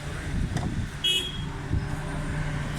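A Suzuki Cultus pickup with a missing tappet and fuel fault idles and drives, a steady low engine and exhaust silencer drone, close and even, with a brief higher tone partway through and no talking.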